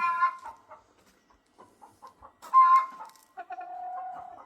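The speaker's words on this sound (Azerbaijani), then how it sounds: "Bu toyuq yumurtlamağa hazırlaşırlar" Hens getting ready to lay eggs cluck in soft, intermittent bursts close by, building to a louder call and then a sustained drawn-out cackle, with quiet pauses between.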